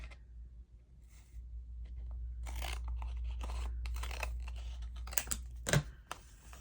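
Scissors snip through paper while making a zigzag-edged belly band for a flamingo-themed journal, giving a few close, crisp cuts clustered near the end over a quiet background.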